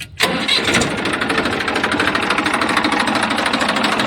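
A Massey Ferguson 245 tractor engine self-starts, cranking and catching almost immediately, then settles into a loud, close, rhythmic chugging idle.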